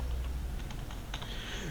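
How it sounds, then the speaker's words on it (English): Typing on a computer keyboard, a short burst of soft, close key clicks in an irregular rhythm over a quiet room hum, with no talking. "Let me type animation"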